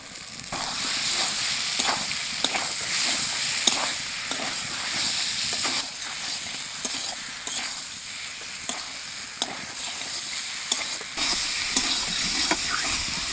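Potatoes tossed into hot oil with whole spices fry with a continuous loud sizzle, broken by regular scraping stir strokes at a steady rhythm, close and without talk.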